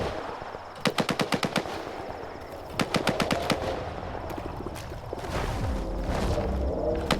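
Rapid bursts of gunfire from a 9mm handgun aimed at bloodsuckers in S.T.A.L.K.E.R. 2, several quick evenly spaced volleys of sharp cracks over a rumbling game backdrop, no talking.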